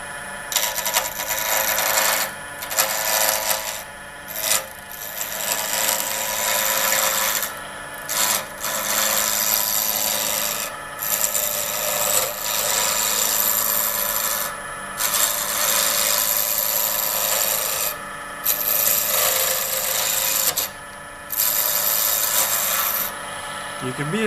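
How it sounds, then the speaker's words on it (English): A carbide turning tool cuts a cocobolo wood pen blank on a lathe, giving a continuous loud scraping hiss that stops briefly again and again as the tool lifts off and re-engages. "so you can see this carbide tool cutting"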